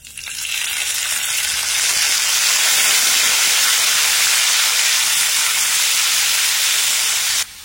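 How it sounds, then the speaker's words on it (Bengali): Chopped tomato and green chilli fry in a pan with a loud, close, continuous sizzle that swells in quickly and holds steady for several seconds before cutting off, with no voices. "টমেটো আর কাঁচা লঙ্কাটাও নেড়েচেড়ে একটু ভেজে নিয়েছি।"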